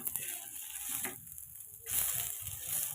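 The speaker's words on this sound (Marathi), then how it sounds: "दुसरी साईड सुद्धा आमलेटची परतून घेणार आहोत" An omelette frying on its second side in a pan, a soft steady sizzle that drops out briefly midway and then returns, no talking.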